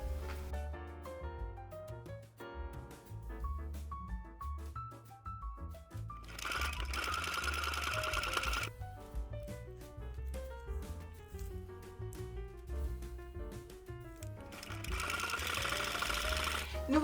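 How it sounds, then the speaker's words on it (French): A sewing machine stitches hook-and-loop tape in bursts of rapid mechanical chatter, stopping and starting between runs, with a faint tone playing underneath. "Je pars maintenant donc à la machine à coudre pour fixer mon ruban agrippant."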